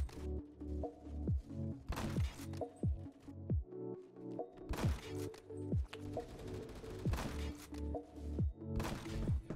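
Rapid rifle shots from a Mosin sniper rifle in a first-person shooter match, sharp cracks repeating every second or so over busy game effects and music, close and moderately loud.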